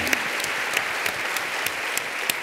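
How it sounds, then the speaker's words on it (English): An audience at a parent education evening on fostering resilience applauds steadily, a dense wash of many hands clapping with a few sharper claps standing out, continuous and fairly close throughout. "So give yourselves a big round of applause."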